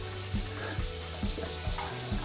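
Hot water tap in a motel bathroom turned fully on, a steady broadband rush of running water with repeated low thumping knocks from the pipes throughout, close and moderately loud.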